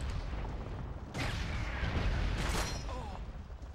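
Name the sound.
mortar firing in the video game Call of Duty 2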